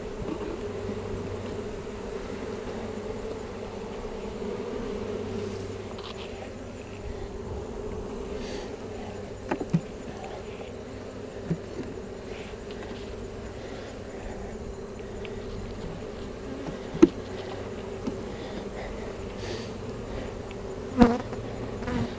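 Honey bees buzz steadily around an open hive during an inspection, a continuous close drone with occasional louder passes near the ear and small clicks and knocks of handling.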